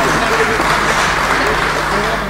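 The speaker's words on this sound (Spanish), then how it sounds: "Fuerte el aplauso para la pareja número 2." Dense, continuous clapping from a crowd at a cueca dance competition fills the whole moment, loud and close.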